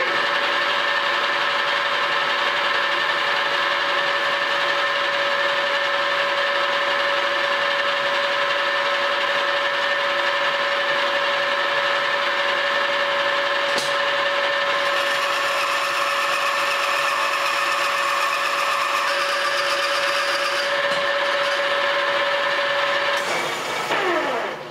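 Metal lathe taking a first cut at coarse feed, about 5 thousandths per revolution, a steady high whining tone with a constant machining hiss throughout, rising to a brighter, busier cutting noise midway and stopping near the end.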